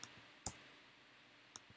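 Computer mouse click and Enter key press: two isolated sharp clicks about a second apart, near and quiet in an otherwise still room.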